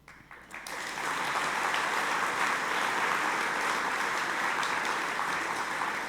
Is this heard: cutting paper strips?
no